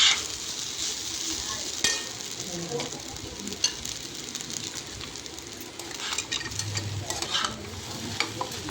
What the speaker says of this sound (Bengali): দেখো সাবুগুলো অনেকটা ভাজা হয়ে এসছে।